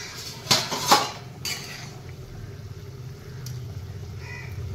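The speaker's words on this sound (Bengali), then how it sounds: "আমি এবার ঢাকনাটা খুলবো।" A lid comes off a pot of Bengali singh fish and cauliflower curry with potatoes, making two close metallic clanks a moment apart, followed by a low, steady simmering hiss.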